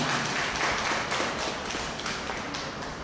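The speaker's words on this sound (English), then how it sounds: "A round of applause for her, please." Seminar audience applauds a presenter with steady, dense clapping that holds fairly evenly from start to finish, heard from within a room and without speech over it.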